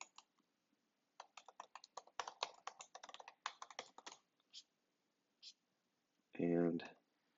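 Fingers tap out a password on a computer keyboard in quick bursts of close, crisp clicks with short pauses, followed by a single brief voice near the end.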